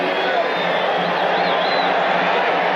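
Loud roar of a football stadium crowd of nearly 50,000, a dense continuous wash of voices with a few whoops rising above it, a commentator talking over the top.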